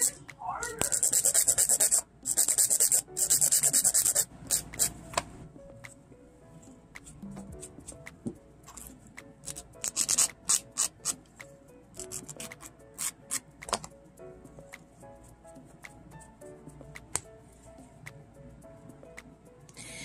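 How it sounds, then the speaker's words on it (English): Nail tips being filed down to shape by a nail technician, with bursts of loud, close scratchy filing at the start and around the middle, followed by scattered lighter strokes and taps. "And then, again, filing down."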